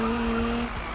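A stock Nissan GT-R sliding in Need for Speed 2015, its engine droning loudly with a steady whine that tails off after a moment. No clear tire squeal stands out beneath the engine.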